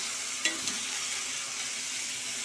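Papdi beans coated in spices sauté in a pan on a low gas flame, with a soft, even sizzle and a couple of brief stirring clinks near the start.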